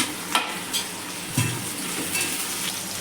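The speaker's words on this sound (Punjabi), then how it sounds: "ਕਰੇਲਿਆਂ ਦਾ ਦੂਜਾ ਬੈਚ ਵੀ ਮੈਂ ਫਰਾਈ ਹੋਣ ਲਈ ਪਾ ਦਵਾਂਗੀ" Bitter gourd (karela) slices frying in hot oil, a steady close sizzle and crackle with a few soft stirring scrapes and light bumps, no voices.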